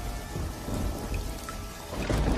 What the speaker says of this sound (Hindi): बारिश इतनी तेज थी कि बिरजू के कच्चे घर की छत उसे सहन नहीं कर पाई